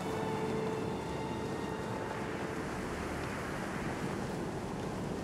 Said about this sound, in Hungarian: Hát de fújik a szél!